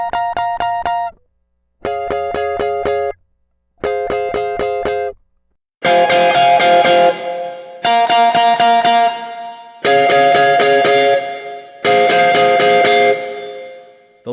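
Electric guitar run through a Marshall Plexi amp plugin for gritty drive and an LX480 reverb, playing repeated chords: three clipped stabs followed by four sustained, ringing distorted chords with reverb tails, loud and alone.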